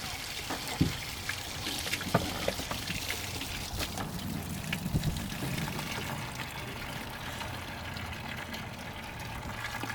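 Water leaking from a boat trickles and splashes steadily into a bucket, with occasional louder drips and splatters over a continuous wet wash.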